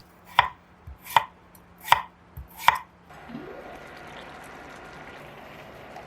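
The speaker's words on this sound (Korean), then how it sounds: "감자는 먹기 좋은 크기로 작게 잘라주세요." Four crisp knife chops through potatoes on a cutting board at an even pace, close and clear, followed by a soft clattering rustle.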